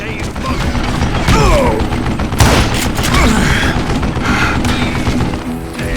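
Mounted gun fires in Call of Juarez: Gunslinger, loud sustained bursts of gunfire with heavy booms, continuous across the stretch with a voice talking over it.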